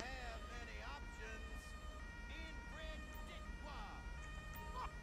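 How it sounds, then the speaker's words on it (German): An emergency vehicle siren wails steadily, its rising and falling tones sounding moderately near over a low engine rumble, with faint voices mixed in. "Mach doch deine Sirene aus."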